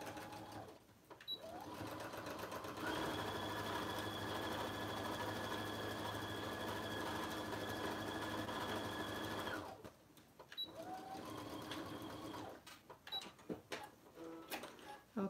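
A sewing machine stitches a simple messenger bag, running in a long steady whir of several seconds, then stopping and restarting in shorter bursts with small clicks and handling noises between runs.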